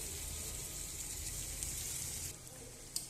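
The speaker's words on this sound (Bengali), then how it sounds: "তো একটু ভালো করে মশলাটা কষে নেব সব কিছু দিয়ে" Spice paste with coriander-cumin powder, salt and turmeric frying in a pan, a steady soft sizzle throughout that drops slightly near the end, with a faint tap.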